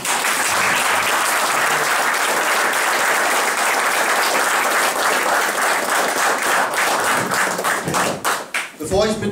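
An audience applauds warmly to welcome Jürgen Elsässer at an evening political event in Greifswald, with dense, sustained clapping that thins into scattered claps near the end.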